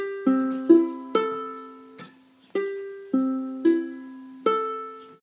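Ukulele strings sound in tune one after another, eight separate plucked notes ringing out and overlapping as they fade, close and clear with no voices.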